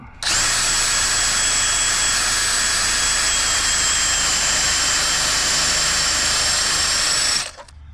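A power drill with a dull bit bores into a Jeep XJ frame, giving a loud, continuous high-pitched grinding whine that starts abruptly, holds steady for about seven seconds, then cuts off.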